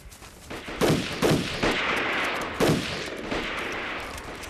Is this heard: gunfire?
yes